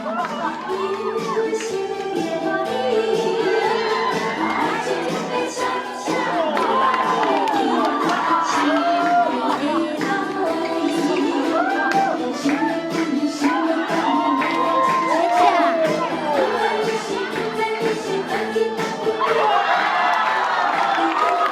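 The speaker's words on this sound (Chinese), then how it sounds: "让我们掌声欢迎他们。" An audience at a church youth drama performance keeps up loud, continuous cheering, whooping and excited shouting, with children's voices, as performers are welcomed.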